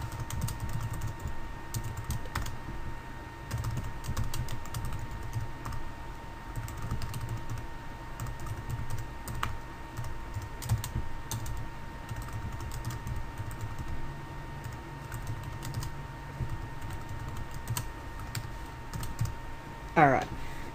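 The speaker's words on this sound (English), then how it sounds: "So we'll just type this in." Steady keyboard typing on a computer while writing code in Game Maker for a platformer, continuous clicking keystrokes at moderate level throughout with a faint background hum.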